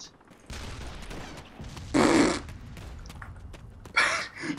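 Bursts of gunfire sprayed through a bush in the military shooter game Arma II, two loud short volleys a couple of seconds apart over quiet background noise.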